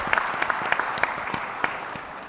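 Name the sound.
audience applause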